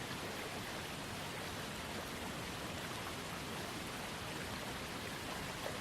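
A dense, steady roar of falling water, broadband and unchanging, like a waterfall heard up close with no other sounds.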